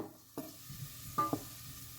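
A few brief scraping stirs of green pepper and onions frying in olive oil in a pan, with quiet gaps between, and a faint sizzle underneath.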